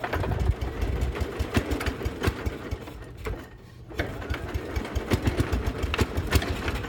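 A 1974 Sears SS16 garden tractor engine runs nearby with a loud, rapid, chattering putter, briefly dipping and stuttering midway before picking back up to a steady, uneven idle.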